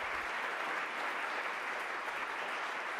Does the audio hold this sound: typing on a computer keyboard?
no